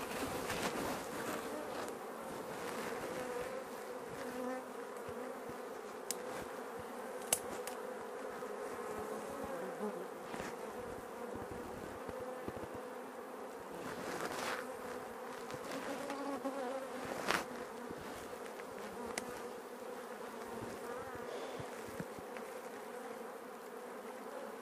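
A swarm of Apis honeybees around a hive, a dense continuous buzzing drone of many insects close by, with occasional louder passes of individual bees and no talk.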